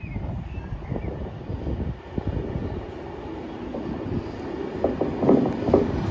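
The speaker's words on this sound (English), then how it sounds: "passing through now is a good diverted Avanti West Coast Pendelino from Liverpool Line Street to London Euston" A diverted Avanti West Coast Alstom Pendolino electric train passes through Kidsgrove station, a low rumbling roar with wind-like rush that swells toward the end, heard from the platform at moderate distance.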